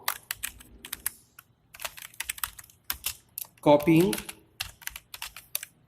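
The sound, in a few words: typing code on a computer keyboard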